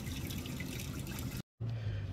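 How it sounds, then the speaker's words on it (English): Water rushing out of an RV black tank during a flush, a steady broadband splashing flow that cuts out briefly and then resumes with a deeper gurgling tone. "I'll run the black tank flush until the water is clear"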